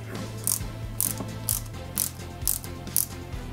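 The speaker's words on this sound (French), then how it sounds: "On retourne l'ensemble puisqu'on va venir visser ici à l'intérieur délicatement." Small CP screws being driven by hand into a 1/8-scale Citroen C4 WRC 2008 model kit, a quiet run of faint clicking ratchet-like turns with soft periodic ticks, close up and without any talk.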